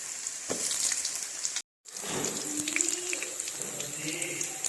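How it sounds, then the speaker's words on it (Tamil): Radish pieces sautéing in hot oil in a pan for sambar, a steady soft sizzle and crackle throughout with a brief dropout in the middle, faint voice in the background. "முள்ளங்கி ஃபஸ்ட்டு நல்லா வதக்கணும் காயில்."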